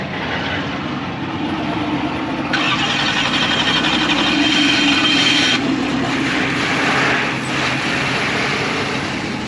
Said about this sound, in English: it sounds quiet on the cold start, but he has cutouts